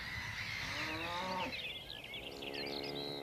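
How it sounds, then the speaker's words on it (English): Cows on green spring pasture let out a long, fairly loud moo, followed by a second lowing call, with faint birdsong in the background. "Cows and horses chew the cud, the lush green grass providing them with spring sustenance"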